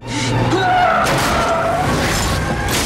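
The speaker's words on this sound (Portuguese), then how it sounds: "O motorista gira abruptamente o volante para evitar uma colisão com o animal." A truck swerves hard on a road, its tires skidding with a rough roar and wavering squeals, loud and close throughout.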